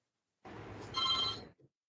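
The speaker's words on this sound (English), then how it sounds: "Somebody's ringing you." A telephone rings once in a short electronic burst that swells louder midway and then cuts off, followed by a tiny blip, heard alone without talk.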